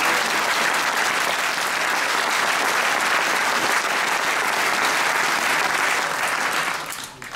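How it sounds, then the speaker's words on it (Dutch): An audience at a municipal New Year's gathering in Westland gives sustained, dense applause for emergency workers, steady and loud before tapering off at the end. "dat was inderdaad een applaus waard"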